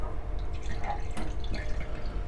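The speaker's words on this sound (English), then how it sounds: "So this is hot and cold electrically pumped tap water." Hot and cold electrically pumped tap water runs from the galley faucet of a Beneteau Oceanis 50 sailboat, a steady close hiss of flowing water with dripping splashes into a double sink.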